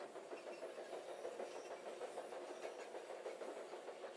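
Steady train running on rails in a video game, a continuous rolling rumble with faint rhythmic clicks, even and close throughout with no talk.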